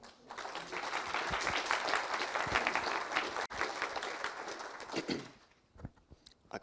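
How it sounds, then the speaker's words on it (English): A conference audience applauds a talk with dense, steady clapping that fades over the final two seconds into a few scattered claps. "So give a round of applause for Joel."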